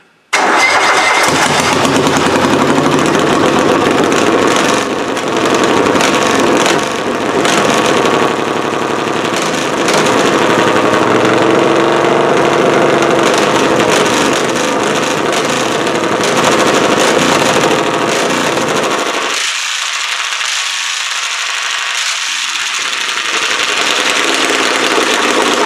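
Cub Cadet pulling tractor engine starts up and runs loud and close, a rough, pounding mid-pitched roar held for over twenty seconds, briefly dropping to a lower idle before picking back up.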